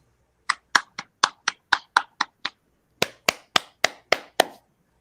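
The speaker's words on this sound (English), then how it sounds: "We're clapping" Two short bursts of hand clapping, eight claps then six, sharp and close, spaced about a quarter second apart, with a brief pause between the runs and no talk.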